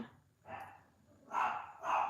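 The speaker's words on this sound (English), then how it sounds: "My dog is barking." A pet dog barks indoors, three or four muffled, fairly faint barks spaced across a couple of seconds, set off by noise from neighbors outside.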